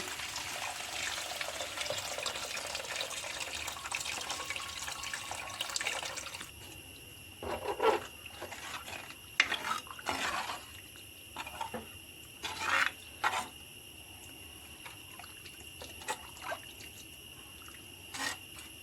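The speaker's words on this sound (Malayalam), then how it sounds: "നമുക്ക് പുളി ഒഴിച്ചു കൊടുക്കാം വാളംപുളി പുഴിഞ്ഞതാണ്" Tamarind water pours steadily into a pot of mackerel fish curry for several seconds, then stops, leaving scattered light clinks and quiet kitchen sounds.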